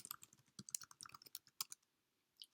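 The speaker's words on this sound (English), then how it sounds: "So I'm doing typing and then pressing tab" Quick, irregular clicks of fingers typing on a desktop computer keyboard, close and fairly quiet, followed by a short pause and a final keystroke, with no voices.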